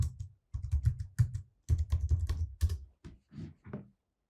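Keys tapped on a computer keyboard while entering a password during a login, a close run of quick clicks in uneven bursts with short pauses between groups.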